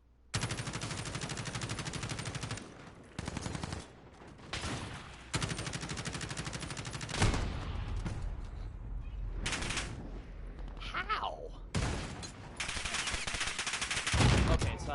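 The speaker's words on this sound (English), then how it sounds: "I was shooting above him." Gunfire in Call of Duty: Modern Warfare: loud rapid automatic bursts, several seconds long, separated by short pauses, with a lone sharper shot and brief quieter gaps between volleys.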